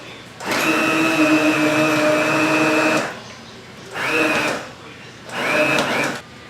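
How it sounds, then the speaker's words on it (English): A handheld electric mixer whirs as it blends cooked mushrooms into a chunky soup, running in one long burst of about two and a half seconds, then two shorter pulses, loud and close with no talking. "I'm just going to use my hand mixer and blend those mushrooms up into chunks"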